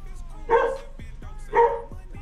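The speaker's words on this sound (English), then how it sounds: "Dog's barking." A dog barks twice, about a second apart, each a sharp single bark at moderate distance over faint background noise.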